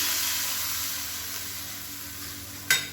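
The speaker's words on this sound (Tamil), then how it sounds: "கடுகு, உளுந்து, கருவேப்பிலை, பெருங்காயம் போட்டு தாளிச்சதை இதில் சேர்த்துக்கலாம்." A steady close-up hiss of oil sizzling as a tempering of mustard seeds, urad dal, curry leaves and asafoetida is poured into mint chutney, with a sharp crackle near the end.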